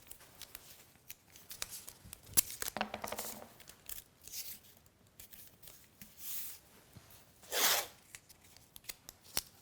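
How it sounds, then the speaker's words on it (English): Short tape being cut for a glue-up with clamps: close, quiet snips and crinkly tearing and rubbing sounds in irregular bursts, including a brighter rip near the end, with no talking. "I'm cutting that tape short so it doesn't get caught up"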